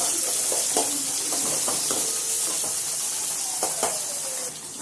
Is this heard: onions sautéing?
yes